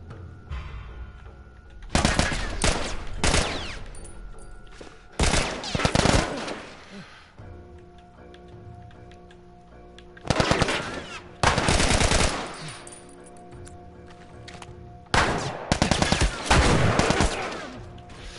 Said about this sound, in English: I need to get better at shooting right now